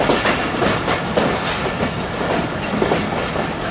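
Railway car of a Pakistani passenger express train rolling along the track at a Lahore station, a steady loud clickety-clack of wheels over rail joints with continuous rumble throughout.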